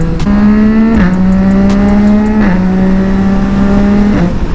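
A powerful sport motorcycle with a quickshifter screams loudly and close, its engine note climbing through gears in rapid upshifts with brief dips between each shift.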